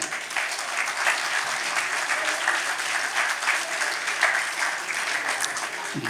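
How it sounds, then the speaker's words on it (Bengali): A crowd applauding steadily, dense clapping from many hands that holds at an even level throughout. "আমি ওদের জন্য চাচ্ছি একটু প্রশংসা হাততালি দেন"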